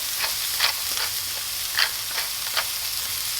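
A slab of burger meat pressed onto a hot griddle sizzles steadily and loudly, with scattered crackling pops over the continuous hiss.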